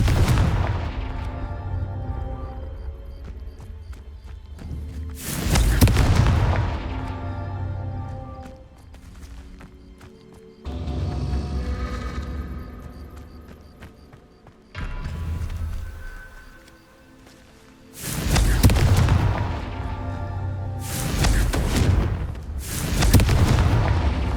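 Confringo spell explosions from Hogwarts Legacy boom repeatedly, several loud, close blasts with rumbling tails spaced a few seconds apart over a lingering low hum.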